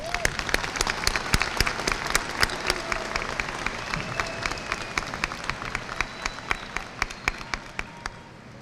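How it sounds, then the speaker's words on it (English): Graduation ceremony crowd at Martin High School applauding two students, broad sustained clapping with sharp individual claps standing out, steady then tapering slightly toward the end. "Let's give these two bright students a big round of applause."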